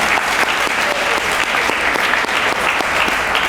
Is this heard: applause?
yes